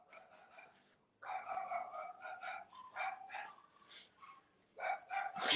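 A dog barks in a quick series of yips and woofs, moderately close, with short pauses between bursts and a final louder bark at the end.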